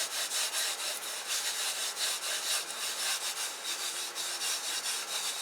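Steady rhythmic rubbing as a substance is worked by hand into the back of a heat pad near its thermocouple wires, a soft dry scratchy swishing repeated continuously at close range and fairly quiet, no voices.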